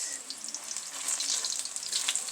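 Plantain slices fry in a pan, golden brown and being turned over, giving a steady bright sizzle with crackling pops throughout, close and continuous with no talking.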